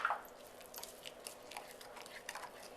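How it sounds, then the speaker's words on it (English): A spoon stirs chopped onions into a smooth meatball mixture in a home kitchen, giving faint, soft squishing and wet patter sounds in an irregular rhythm, up close and quiet, with no talk. "And just give it a little stir."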